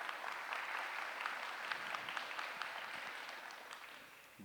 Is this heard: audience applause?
yes